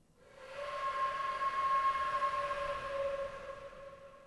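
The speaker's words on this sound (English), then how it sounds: "So the wood flute sounds like this." Sampled wood flute processed with a B2 reverb effect, a soft breathy sustained tone that swells in and lingers in a wide, swirling wash before fading; quiet, with no talking.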